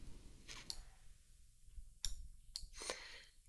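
A computer mouse clicks a few times while text is resized in Cricut Design Space, producing faint, sparse, close clicks over a quiet background.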